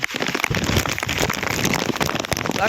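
Heavy rain pours down hard, a dense, loud, continuous patter of drops striking surfaces close by.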